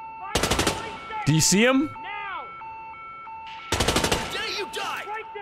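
Bursts of rapid automatic gunfire from the Hitman video game, two loud volleys separated by a pause, with game tones and a voice speaking between them.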